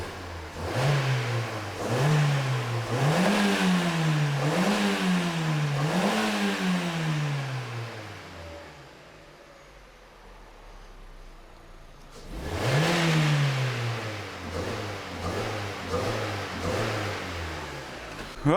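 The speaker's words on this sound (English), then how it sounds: "We just give it a few stabs of the old throttle." A Vauxhall/Opel Astra engine with fault codes P0100, P0135, P0141 and P0443 revs repeatedly in quick throttle blips, rising and falling several times, then idles quietly before one more sharp rev near the end.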